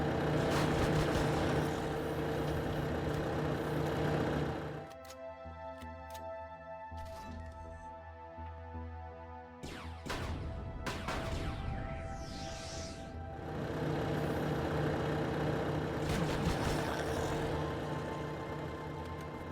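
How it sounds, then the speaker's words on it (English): A loud diesel engine drones steadily in a multiplayer video game, dropping away midway amid sharp cracks and clatter before the heavy rumble returns, with no voices. "And underneath that really loud diesel engine."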